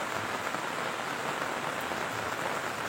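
Heavy rain pouring steadily onto surfaces at home in a fish-pond area, a dense, constant hiss close by, with no voices over it.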